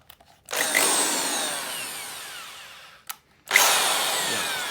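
A Black and Decker hammer drill spins up at speed twice, a close, loud whine that winds down gradually, cuts out briefly, then starts again.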